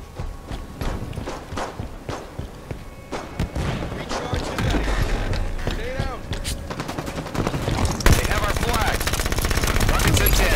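Rapid bursts of weapon fire in a Halo 5 Arena capture-the-flag match, dense repeated shots and impacts building in intensity with game effects layered over them, loud and close.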